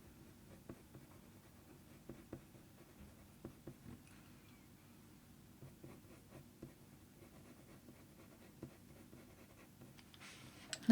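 Dark sepia colored pencil drawing on paper, laying in individual hairs of a leopard eye: soft, close scratchy strokes in short irregular bursts, quiet and steady with no talk.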